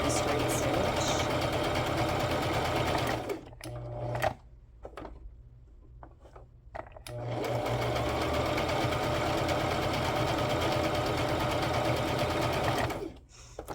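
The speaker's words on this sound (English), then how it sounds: "I'm going to alternate between a zigzag and a straight stitch." A sewing machine switches between zigzag and straight stitching on a journal topper, running loud and close in two long bursts that are separated by a quiet pause with scattered clicks.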